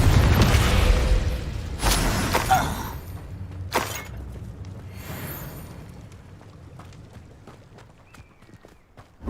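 A Confringo fire spell in Hogwarts Legacy bursts with a loud crash and debris scatter, followed by a couple of sharper blasts and cracks that fade into quieter game ambience.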